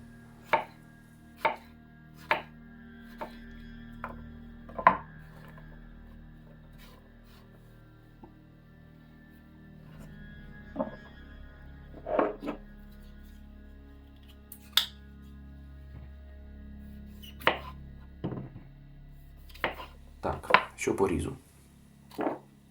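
A Spyderco Manix 2 folding knife slicing through chicken or veal on a board, a series of sharp, close cutting knocks spaced irregularly, clustering faster toward the end, with someone speaking between cuts.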